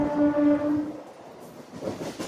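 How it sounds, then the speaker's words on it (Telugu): A MEMU express train, number 17259, runs fast on the Nellore to Vijayawada line, a loud horn blast opening over rumbling wheels that continue as a steady rolling roar. "అందుకే మన ట్రైన్ ట్రాక్స్ మీద దుమ్ము రేపుకుంటూ వెళ్ళిపోతున్నారండి"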